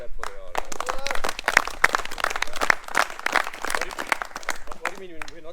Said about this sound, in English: So just give a clap for the ROs.